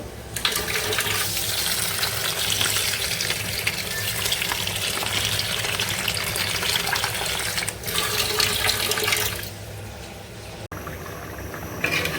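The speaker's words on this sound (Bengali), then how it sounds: "এখানে ডালটা আমি ধুয়ে নিচ্ছি" Dal lentils rinsed by hand in water, with a steady, loud gush of running water that carries on for about ten seconds before easing slightly near the end; no voices.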